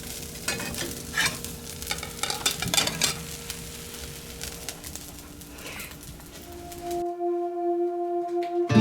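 Bacon frying in a pan over an outdoor off-grid breakfast fire, a steady close sizzle with scraping and stirring for about seven seconds, then cutting to a quieter scene with sustained tonal hum and faint birds.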